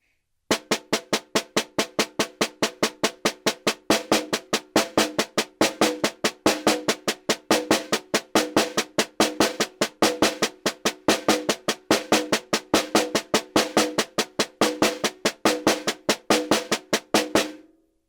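A snare drum plays a long, even run of sixteenth notes with shifting accents, crisp rapid strokes at a steady tempo, close and alone, stopping cleanly at the end.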